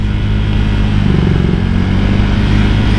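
A motorcycle with a BRT 63mm engine roars loudly and steadily during a test ride, close and continuous with a slight rise in pitch.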